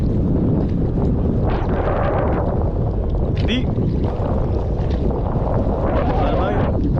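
Strong wind buffets a fishing boat out on open water during an angling tournament, a steady loud roar and rumble of gusts across the microphone, with people talking over it throughout.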